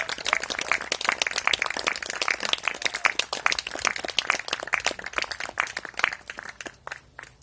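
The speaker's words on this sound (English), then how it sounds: "please just a huge round of applause to Debs and Simon having us here" A crowd applauds the hosts at an outdoor folk music evening in a barn, many sharp individual claps forming a lively, close, steady patter that thins out toward the end.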